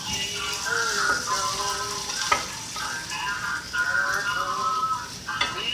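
Celery, potatoes and chicken sizzle and fry in a pan on a stove top, a steady crackling hiss with occasional stirring scrapes throughout.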